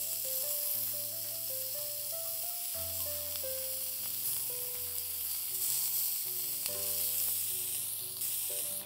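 Grilled meat sizzles steadily in a pan while being turned, a continuous close hiss running under background music throughout.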